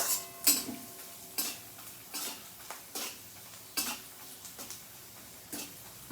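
Turmeric, chilli powder and salt masala frying in a pan, with a scattering of spoon scrapes and clinks against the metal over a faint, steady sizzle, close and fairly quiet.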